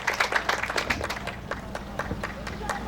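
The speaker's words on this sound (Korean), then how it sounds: "자, 세 분께 먼저 큰 박수를 보내주시기 바랍니다." An audience at a gathering of Korean War boy-soldier veterans breaks into applause, a burst of brisk, dense clapping at the start that thins into scattered claps, moderately close and fairly faint.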